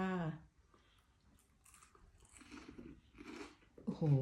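Crispy fried shrimp coated in batter and breadcrumbs being chewed up close, soft crunching bites between voiced sounds; a person speaks briefly at the start and end.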